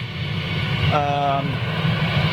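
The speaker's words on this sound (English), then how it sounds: "let you guys listen to this beautiful aeroplane" An airplane at Manchester Airport roars with a steady, loud broadband engine drone, a brief tonal whine rising through it, heard from a spotting position outdoors.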